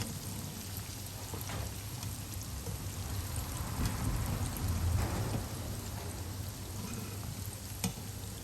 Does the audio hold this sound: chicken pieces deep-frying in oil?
yes